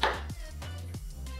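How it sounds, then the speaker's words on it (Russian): Knife chopping food into large pieces for cheese soup, four distinct chops on a board at a slow, even rhythm, close and crisp with quiet between strikes. "Поэтому я и нарезаю"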